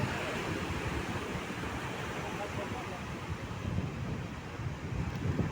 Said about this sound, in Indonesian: cuman angin masih kencang, sekitar 17 kecepatan angin